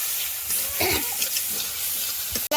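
Prawns and fish fry in spice paste in a home kitchen pan, giving a steady soft sizzle and hiss with faint stirring scrapes throughout, no talking.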